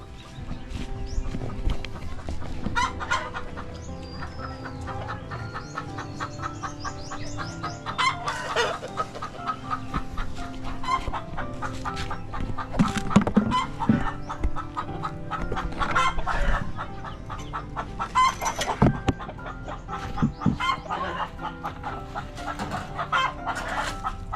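Chickens cluck steadily at close range while a rooster crows now and then, with a busy outdoor barnyard clatter in the background.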